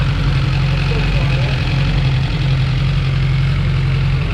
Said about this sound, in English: just a little valve blast. That's the noise in the head there.